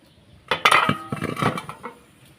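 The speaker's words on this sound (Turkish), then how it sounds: "Kaldırayım kapağını." A few metallic clinks and scrapes of a pot lid being lifted and set down on a pot of plum compote on the heat, close and fairly loud, over a couple of seconds.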